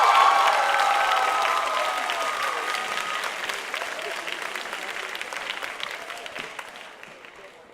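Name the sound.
audience applause for Daniel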